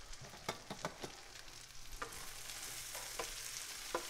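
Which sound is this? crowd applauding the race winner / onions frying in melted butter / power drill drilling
onions frying in melted butter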